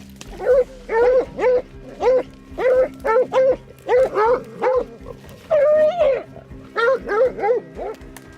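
Hunting dogs attacking a coyote pinned underneath during predator control, a rapid series of loud, close barks and yelps in repeated bursts throughout.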